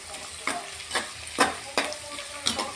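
Curry leaves crackle in hot tempering oil for a fish curry, steady sizzling punctuated by about six rhythmic scraping stirs close by, with no talk.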